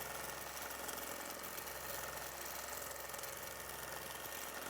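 A sewing machine runs at a steady pace while quilting U-shaped curves side to side across a quilt, a constant mechanical hum and vibration with no pauses or talk.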